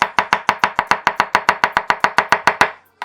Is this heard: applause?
no